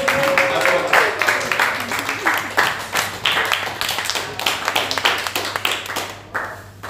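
Scattered applause from a small group at an annual cheque presentation ceremony, with individual claps standing out in an uneven rhythm, some voices mixed in, and the clapping dying away near the end.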